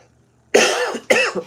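Two close, loud coughs in quick succession, the first longer and the second shorter, after a moment of silence.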